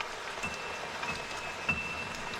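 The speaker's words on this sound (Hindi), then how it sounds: "बाहर इतनी जोर की बारिश हो रही है" Heavy rain falling outside, a steady hiss of dense drops with faint scattered patters, continuous and moderately quiet with no voices.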